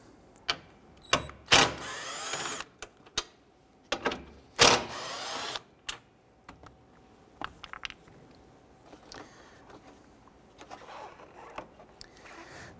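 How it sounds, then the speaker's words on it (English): Ratcheting 10 mm socket loosening two bolts on the intake tube of a 2012-2017 Toyota Camry, heard as bursts of rapid clicking with short metallic ticks and clunks in between, close and fairly quiet. "Using a 10 millimeter socket, we're going to remove the two bolts right here holding our intake tube."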